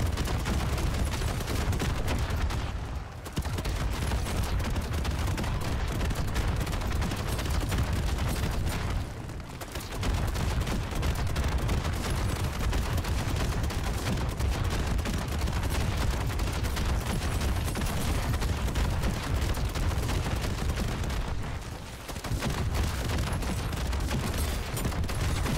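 An RGL grenade launcher fires repeatedly in Call of Duty MWZ zombies mode, giving loud continuous blasts and explosions with only brief lulls across the stretch.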